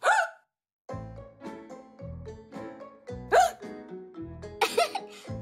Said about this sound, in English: I guess the hiccups are contagious.